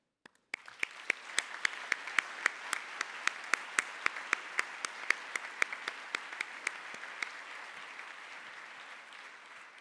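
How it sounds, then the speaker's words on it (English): An audience at an INSEAD EMBA graduation ceremony applauds together, dense steady clapping with distinct sharp claps standing out near the microphone, sustained for several seconds before thinning slightly. "Let us take a moment to give ourselves a huge round of applause."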